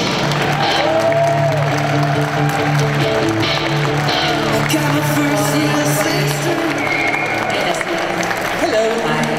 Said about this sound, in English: Please give a big Sunday at Comic Con Stuttgart round of applause for Jess